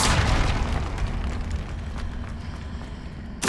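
A Confringo spell explosion in Hogwarts Legacy bursts with a loud, close boom, followed by a sustained rumbling roar that slowly fades and ends in a short, sharp burst.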